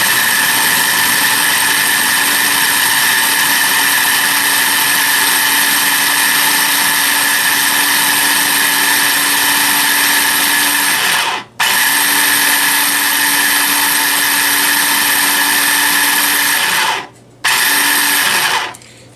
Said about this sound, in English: I don't have a blender, but I have a chopper, so we're going to have to do the chopper.